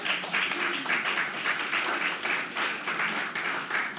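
An audience at a lecture applauds steadily for four seconds, a dense, even wash of many hands clapping at moderate distance.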